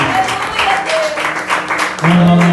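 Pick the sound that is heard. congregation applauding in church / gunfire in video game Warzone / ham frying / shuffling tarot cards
congregation applauding in church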